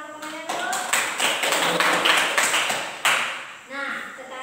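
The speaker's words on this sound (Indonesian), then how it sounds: "boleh tepuk tangan untuk temannya dulu" Classroom applause for a classmate after a presentation: a burst of scattered hand claps from a group of students, dense and close for about three seconds, then thinning, with voices mixed in.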